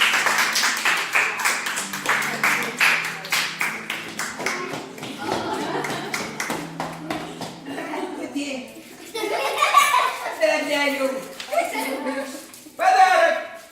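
At an award ceremony for a children's cat-drawing contest in a St. Petersburg hotel, a burst of dense, close clapping fades into chuckles, laughter and children's voices talking.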